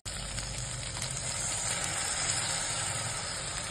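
Mustard paste liquid sizzles steadily in hot oil for a prawn malai curry, a dense continuous hiss close by with no talking.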